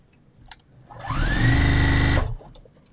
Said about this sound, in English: So let's sew these together